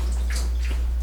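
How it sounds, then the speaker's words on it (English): Water runs steadily at a kitchen sink as vegetables are rinsed, a continuous close splashing flow with a few brighter splashes. "So I rinse this again at the sink, so that's a bit dirty."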